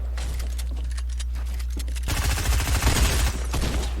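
Gunfire erupts in a video game shootout, starting with scattered shots over a steady low hum and then turning into a dense, loud burst of rapid fire for the last couple of seconds.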